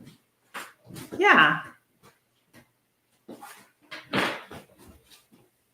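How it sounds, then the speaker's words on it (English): A dog indoors gives a short, loud bark-like yelp with a whining edge, followed by scattered quieter sounds, while people talk nearby. "We're all talking about our dogs on how they like to make noise."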